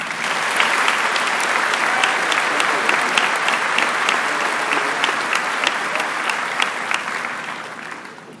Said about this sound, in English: join me in honoring him with a round of applause